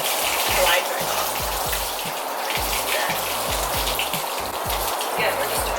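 Water runs steadily while a dog is bathed and its undercoat soaked, a constant spraying hiss with soft splashing, joined by repeated low, rhythmic knocking sounds underneath.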